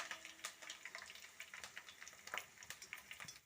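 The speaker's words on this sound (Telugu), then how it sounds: "ఇప్పుడు ఆయిల్లో వెల్లుల్లి వేసాను, ఇది బాగా వేగాలి." Garlic and tempering spices frying in hot oil for a curry leaf pickle, giving a steady, close crackling sizzle with frequent small pops, moderately loud and without voices.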